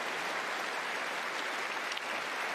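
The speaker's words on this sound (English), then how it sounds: "Listen to the roar from the Alexandra Palace crowd." The Alexandra Palace crowd at a Masters snooker match roars and applauds in a steady, dense wash of noise that holds at an even level throughout.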